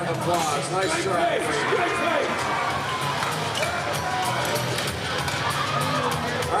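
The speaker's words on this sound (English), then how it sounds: "Give him a round of applause." Crowd noise from spectators at a collegiate powerlifting nationals meet fills the hall after a lift attempt, a steady wash of applause, cheering and chatter with no gaps.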